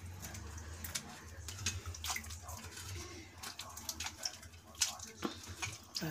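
Water splashes and sloshes close up as homemade butter (makhan) is washed by hand in a bowl. Someone talks quietly over the irregular splashes.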